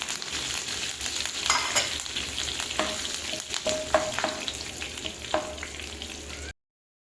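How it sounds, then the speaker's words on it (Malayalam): Curry leaves fry in hot oil for a Kerala snack mixture, a continuous close sizzle with crackling bursts and a few scraping stirs, no voices. "കറിവേപ്പില കൂടെ ഇട്ട് വറുത്ത് കോരാം."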